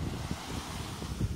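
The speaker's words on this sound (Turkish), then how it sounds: "Deniz dalgalı biraz." Sea waves at a beach in Kuşadası, a steady low surf rumble with wind buffeting the microphone and a slightly louder wash near the end.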